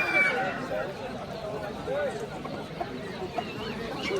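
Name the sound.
roosters and hens at a poultry market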